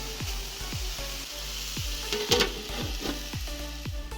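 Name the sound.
banana flower frying in a covered pan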